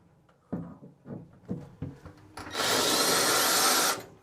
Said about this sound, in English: So I've got a combi drill here with a 6mm toe bit.